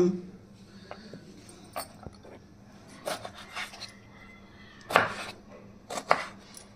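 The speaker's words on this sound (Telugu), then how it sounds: "టమాటాలు కట్ చేసుకుందామా? టమాటాలు కట్ చేద్దాం." A knife chops tomatoes on a board for a dried red chilli tomato chutney, sounding as a few sharp, irregular cuts close by, louder toward the end, over a quiet kitchen background.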